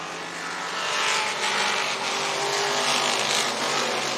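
Race cars roar around the dirt oval at Boone Speedway in Boone, Iowa, during an IMCA race, a loud sustained engine drone that swells as the field charges through turns one and two.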